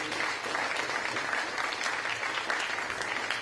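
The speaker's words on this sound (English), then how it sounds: "Let's give Chuck a big round of applause for helping me out" An audience claps steadily and loudly through a humor talk on stage, a dense, continuous wash of many hands with no break from start to finish.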